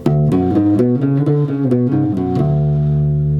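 A guitar runs up a scale in a steady sequence of plucked notes over a low sustained root, ending on a held note; loud and close, no voices.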